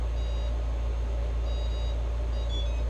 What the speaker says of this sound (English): we should hear our beeps from the SC here soon.